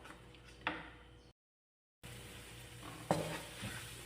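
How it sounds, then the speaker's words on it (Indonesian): Spice paste for Indonesian fried chicken with coconut serundeng sautés quietly in a pan, a soft sizzle broken by a couple of sharp stirring scrapes and a short dropout to silence. "Kita tumis sampai dia harum ya."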